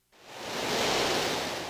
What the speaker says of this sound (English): The ocean sounds. Are you kidding?